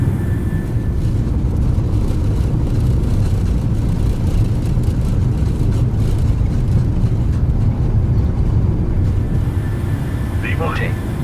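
Boeing 737 jet engines roar steadily at takeoff power in Microsoft Flight Simulator, a loud, even rumble that fills the whole stretch, with a voice speaking over it.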